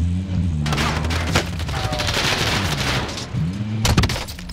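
Rifle and gun fire from a Warzone battle royale match with a Kar98 bolt-action rifle, dense bursts of cracks and booms filling the scene, with sharp louder shots near the start and again near the end.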